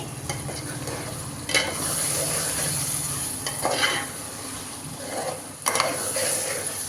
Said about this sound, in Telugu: ఇప్పుడు ఫ్రై అయిన ప్రాన్స్ వేసుకోండి. ప్రాన్స్ వేసుకున్నాక బాగా మిక్స్ చేయండి.